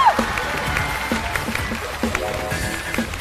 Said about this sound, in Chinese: 请为他欢呼